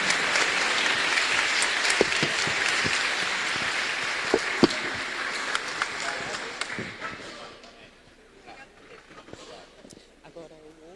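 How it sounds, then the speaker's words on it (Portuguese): Applause at a pension-fund symposium for the superintendent Ricardo Pena, a dense steady clapping from a large audience that holds strongly for several seconds, then thins into scattered claps and fades away. "uma salva de palmas para o nosso superintendente Ricardo Pena."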